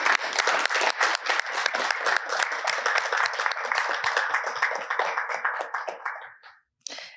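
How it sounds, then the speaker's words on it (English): Audience applause closing an evening symposium, a close, dense burst of many hands clapping steadily for about six seconds before fading to near silence, then a brief final flurry. "If I could get you to have another round of applause for everyone this evening."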